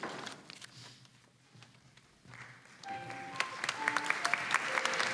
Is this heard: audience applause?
yes